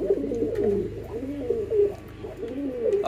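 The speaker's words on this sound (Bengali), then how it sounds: "কবুতরগুলো ছেড়ে দিলাম মাত্র।" Pigeons on a pigeon farm on a cold, overcast winter morning coo steadily in low, overlapping rolling calls, close and continuous, with no talking.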